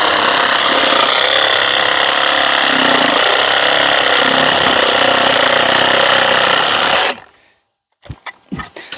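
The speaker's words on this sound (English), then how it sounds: "I usually just saw it in two with my sawzall." A battery-powered Sawzall reciprocating saw cutting through sticks, a loud continuous buzzing saw run lasting about seven seconds, then abruptly stopping and followed by a few faint clicks and handling knocks.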